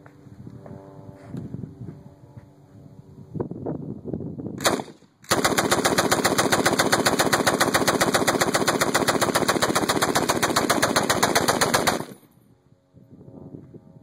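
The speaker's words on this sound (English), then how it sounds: "This is Matt shooting the M60." An M60 machine gun fires one long, continuous burst of rapid, loud, evenly spaced shots lasting about seven seconds. Quieter outdoor handling noise comes before and after the burst.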